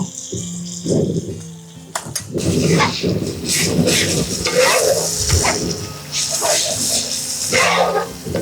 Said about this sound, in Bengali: এই মশলাটাকে এখন ভালো করে কষাইতে হবে